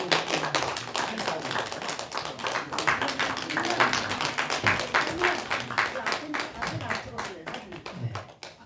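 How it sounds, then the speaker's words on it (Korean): A church congregation claps for newly appointed deacons during a Sunday morning worship service, a steady patter of many hands filling the room with voices talking underneath throughout. "박수해 주시기 바랍니다."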